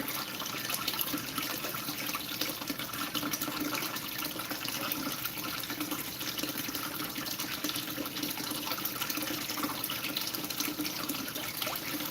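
Water runs continuously during a gold pan cleanup, a steady close splashing hiss like a tap flowing, even and unbroken throughout.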